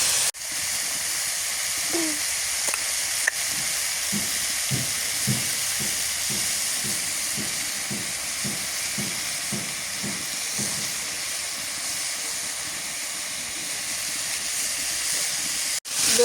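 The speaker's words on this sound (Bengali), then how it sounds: "বেগুন কষানো হয়ে গেছে" Eggplant sautéing in a pan during village-style cooking: a steady hiss of frying with a regular series of soft scraping stirs, close and continuous.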